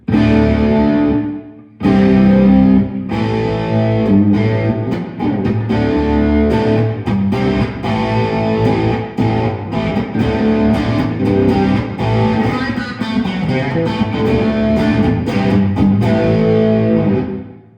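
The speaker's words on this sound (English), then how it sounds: "Again, the reverb enhances the guitar sound, so it's nice." Electric guitar played through a Carl Martin Headroom Mini reverb pedal with the reverb turned up to about three o'clock, loud and continuous chords and notes with a full, washed sustain, with no talking.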